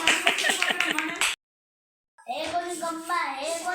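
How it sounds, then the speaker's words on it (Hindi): Rapid hand claps sound close by in a quick run for about a second, then stop. After a short silence, people are heard speaking and singing. "ताली बजाओ भाई।"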